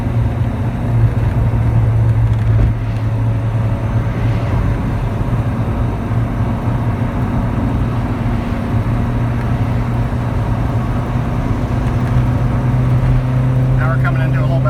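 A Callaway Rabbit car engine holds a loud, steady droning hum in third gear at highway speed, heard close from inside the cabin with a constant low tone throughout.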